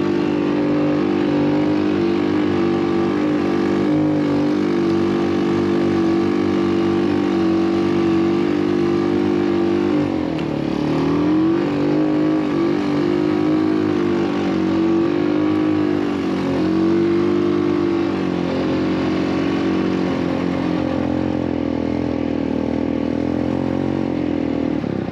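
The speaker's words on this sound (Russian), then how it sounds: "Снегоход легкий, шикарно рулится, четырехтактный, не шумит, едет достаточно бодро" Irbis SF200 four-stroke snowmobile driving on snow, its engine a loud, steady close drone with a slight shift in pitch midway, running continuously with no talking.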